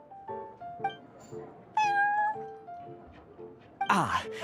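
Prince, a cat in the Genius Invocation TCG game, meows in a short series of close, bright cries, ending in a louder drawn-out yowl, with no talk over it.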